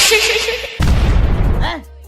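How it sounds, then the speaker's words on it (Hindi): A cartoon firecracker dropped into a pipe explodes with a sudden loud blast and a crackling, rumbling tail lasting about a second, after a tonal cartoon sound and before a short chirpy sound. "अब ये अगरबत्ती से पटाखा जला के फेंक रहा था तो पाइप में एक पटाखा डाल देता है।"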